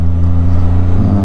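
A Can-Am Spyder F3S engine pulling a trailer along a twisty road, giving a loud, steady, close low engine drone with strong hum tones, held throughout without talk.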